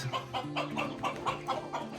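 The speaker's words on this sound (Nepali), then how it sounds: "कुखुराले पनि गुड मर्निङ भनिरहेछ।" A rooster clucks repeatedly in a steady rhythm, close by, with a low hum of farmyard background underneath.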